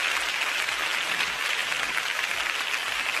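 An audience applauds at a Hindi comedy poetry show, a dense, steady wash of many hands clapping throughout.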